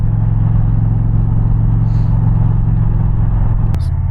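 Indian Challenger motorcycle exhaust rumbling steadily while riding a curvy road near Bear Mountain along the Hudson River, a loud, close, continuous low drone with wind noise, easing briefly near the end.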